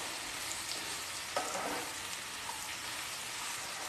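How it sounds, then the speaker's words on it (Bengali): Freshly cut ash gourd tossed into a hot pan and stir-fried, a continuous close hiss of frying with a brief clatter as pieces drop in, steady and moderately loud. "এবার দিয়ে দিচ্ছি কেটে রাখা চাল কুমড়ো। দু মিনিট মতো নাড়িয়ে নেব।"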